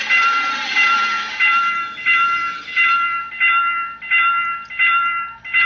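Repeating electronic crossing bell at a South Korean railroad crossing in a video game rings in steady pulses, about one every half-second, loud and close, with a faint rumble of a passing train underneath.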